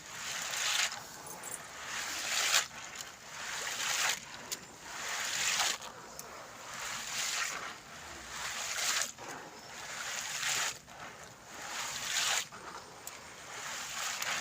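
Soaked pigeon peas being washed by hand in water, giving a steady, close sloshing and swishing with rhythmic surges every couple of seconds and no talking.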